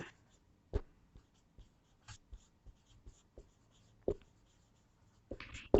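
Pen writing notes by hand during a civics lesson on state governors, a series of short, separate scratchy strokes at close range, with quiet pauses between them and no talking.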